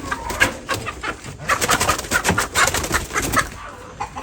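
Brooding hens close by make soft, throaty clucks and low purring coos in short uneven bursts, fairly loud, with no talking.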